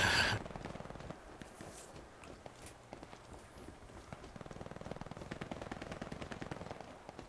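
Rapid gunfire from a Hell Let Loose multiplayer battle, with trains of sharp, fairly faint shots repeating through the whole stretch and a louder burst at the very start.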